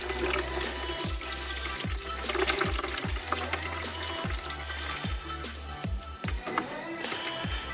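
Coolant glugs from a jug into a BMW's cooling system after a thermostat change, a steady pouring stream with regular low gulps of air roughly every second, close and continuous.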